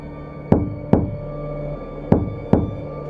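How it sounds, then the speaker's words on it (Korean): Knuckles rap on a wooden door in two quick double knocks, close, dry and sharp, with nothing else but a faint hum between them. "문을 두드렸다."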